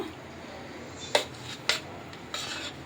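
A knife cuts ice apple (palm fruit) into small pieces, with three faint, crisp slicing strikes against a board, close and quiet.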